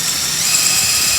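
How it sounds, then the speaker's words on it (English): Power drill boring a hole for a Honda Super Cub foot peg bolt, a brief steady high whine close by with no talk. "Any kind of oil will do, and drill it through the hole."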